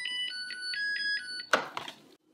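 A rice cooker set to its rice setting plays a short, bright electronic beep melody of repeated tones, followed by a sharp clack and a brief rattle before falling silent.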